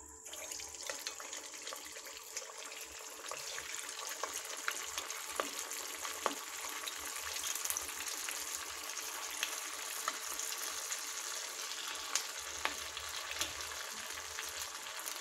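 Sweet rava bonda balls frying in hot oil, a steady, fine bubbling sizzle lasting throughout with scattered small crackles and pops, close and moderately quiet.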